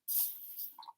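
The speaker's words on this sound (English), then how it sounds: "So I'm going to give this a spray." A spray bottle mists water onto a card before embossing. It makes one short, close hiss lasting under a second, with no talking.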